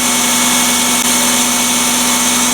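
A freshly rebuilt Toyota Estima engine runs steadily at idle, close and loud, with a constant low hum and a broad mechanical whir throughout.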